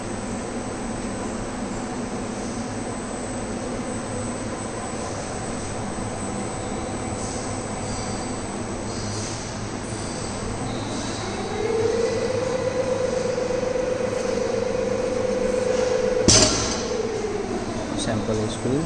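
Paver block flexural testing machine applying load, a steady mechanical hum with a rising whine that holds, then a brief sharp snap near the end, heard alone without talk.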